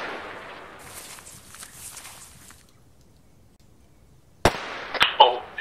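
Sharp gunshots in the military video game Arma 3 crack out near the end as a single loud report followed by a few quick pops, after a stretch of low rustling and quiet background.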